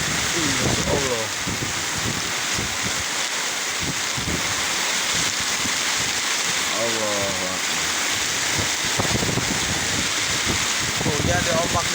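Heavy rain and gusting wind batter a small fishing boat caught in a storm at sea off Ujung Kulon, a constant broadband roar of wind and spray with excited voices calling out over it.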